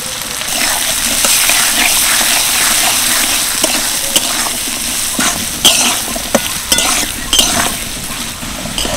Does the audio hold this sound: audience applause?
no